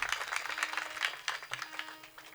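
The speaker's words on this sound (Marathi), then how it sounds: "जोरदार टाळ्या वाजवा" Audience clapping at a Marathi kirtan devotional gathering, a steady wash of many hands applauding with irregular peaks, fairly close and sustained throughout.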